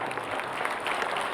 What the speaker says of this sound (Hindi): अच्छे संचालन के लिए तालियां बजाएं